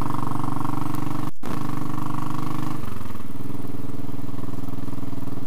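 A Royal Enfield Classic 500 single-cylinder motorcycle engine runs loud and close, its thumping beat steady, then shifting pitch slightly partway through as the revs change.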